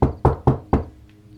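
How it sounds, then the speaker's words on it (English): Four firm knocks on a wooden door in quick succession, close and loud, each a sharp thud with a short decay, followed by quiet room tone. "another knock."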